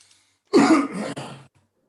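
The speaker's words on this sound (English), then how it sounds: "it's my normal morning phlegm cough." A wet, phlegmy cough in a single close burst of about a second, rattling and rough, followed by silence.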